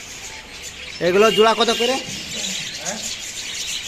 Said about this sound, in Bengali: আর এখানে বেশ কিছু লুটিনো বাজারিকা আছে, দেখতে পাচ্ছেন এই যে।